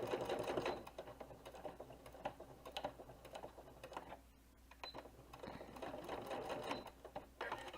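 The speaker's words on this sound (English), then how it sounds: "All right, so I did my first stitch." A home sewing machine runs in steady bursts, stitching organizer fabric for an embellishment organizer's first pocket, its rapid mechanical whir close and moderately loud with short pauses between runs.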